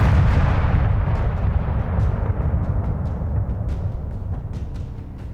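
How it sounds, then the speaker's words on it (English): A Phantom dropship explosion effect from the Halo game: a heavy, rumbling blast that rolls on with crackling debris pops scattered through the decaying roar, loud and continuous. "It seems to be a sound effect for a phantom explosion."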